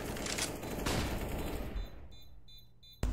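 CS:GO gunfire comes in a dense, loud burst of shots that fades into quieter scattered pops, then a sharp final crack at the end.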